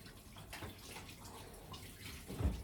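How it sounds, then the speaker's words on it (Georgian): Water runs and splashes from a tap, soft and uneven, swelling to a louder gush at the end. "წყალი მოდის კიდე და გავავსოთ ეს ბოთლები."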